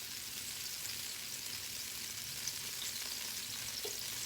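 Wine reducing in a pan with chicken breast, a steady dense sizzle and bubbling hiss that holds evenly from start to finish, close and alone with no voices.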